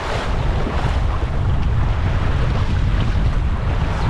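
Strong wind roars across the microphone while waves wash against a small sailboat on the Tasman Sea, a loud, steady, unbroken rush with no voices.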